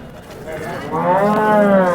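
A cow lets out a loud, close moo at a cattle market in Sangola, Maharashtra, a single drawn-out call that swells and holds for about a second and a half.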